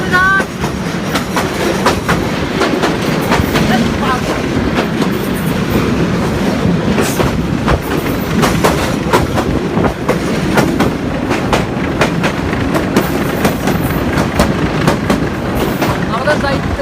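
A passenger train heading toward Lalmonirhat in Bangladesh rolls along the rails with loud, steady rumbling and rhythmic wheel clatter, heard close up from on board throughout, with some background voices.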